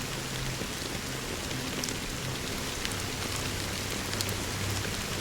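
Steady fine drizzle of black rain in the Honkai Star Rail video game, a continuous soft hiss of raindrops at even loudness throughout, with no voices.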